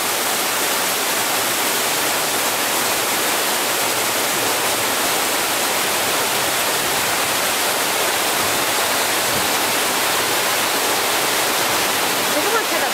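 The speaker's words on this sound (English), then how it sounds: "just over these rocks is Bigfoot Rapids" Loud, steady rushing water from the Bigfoot Rapids river raft ride at Knott's Berry Farm, a continuous broadband roar of churning rapids and falls filling the whole stretch with no pauses.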